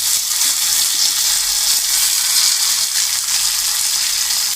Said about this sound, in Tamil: ஒரு கொத்து கருவேப்பிலை போட்டுங்க தாளிக்கிறதுக்கு